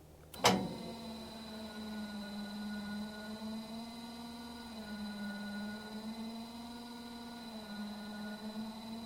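Electric head-lift motor on a Woodland Mills HM130 Max sawmill runs steadily as the head moves up or down, a low, even whine that shifts slightly in pitch partway through, following a sharp click at the start.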